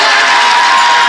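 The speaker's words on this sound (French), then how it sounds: "On applaudit, s'il vous plaît." A studio audience at a talent show cheers and applauds, giving a loud, dense wash of crowd noise that holds steady throughout the brief moment.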